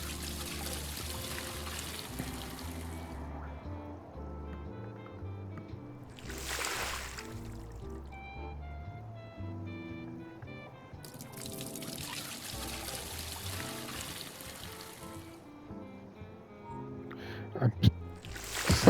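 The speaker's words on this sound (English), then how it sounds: "Put this in here and let's drain the water." Water pours and trickles out of a drained aquarium in the Aquarist video game on PS5, a steady wash in two long bursts over layered game music, with someone talking over parts and a few sharp clicks near the end.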